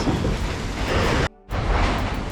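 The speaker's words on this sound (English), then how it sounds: "Now I think the rain has just eased enough." Heavy rain pouring down in Bangkok, a dense, loud hiss with a deep rumble underneath, broken by a brief silent gap before the downpour resumes just as strongly.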